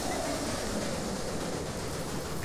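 A train in the railway management game Railway Empire, heard as a continuous dense rumble and rolling hiss at an even level with no breaks.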